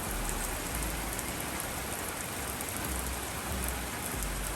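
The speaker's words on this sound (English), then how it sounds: "It sounds like a monsoon out there." Steady, dense rain pouring down with a constant hiss and low rumble, no voices, continuous throughout.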